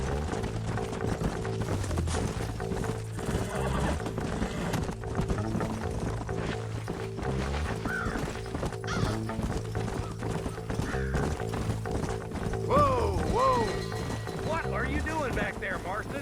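Horses from the video game Red Dead Redemption clip-clop steadily at close range and whinny several times toward the end, with low rumbling game ambience running underneath throughout.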